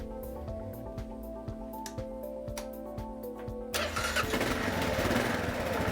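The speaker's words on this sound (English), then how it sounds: "start your bike" A Kawasaki KLR650 motorcycle engine cranks and catches partway through, then settles into a loud, steady, close-up running rumble after a quieter mechanical ticking.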